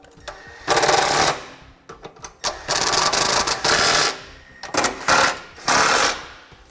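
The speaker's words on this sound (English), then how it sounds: "now we'll torque those down to the appropriate specification" A ratchet torques the bolts of a Curt trailer hitch receiver on a 2013 Ford Escape, giving several rapid clicking bursts close by, each lasting about a second and separated by brief pauses.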